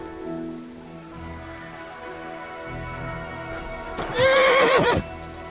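Horse in Kingdom Come: Deliverance 2 gives a loud, quavering whinny near the end, after a stretch of soft hoof clip-clop and rustle; no talking.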